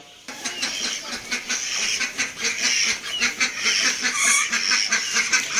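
A flock of ducks quacks noisily and without pause, loud and close, with overlapping calls and no talking.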